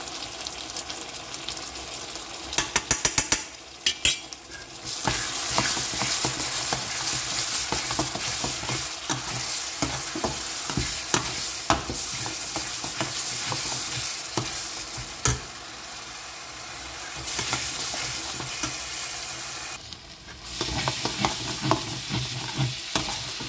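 Turmeric, chili powder and cumin powder frying for Bengali-style alur dom, stirred briskly in a pan with a bright continuous sizzle and repeated scraping strokes, close and loud with brief pauses and no talk.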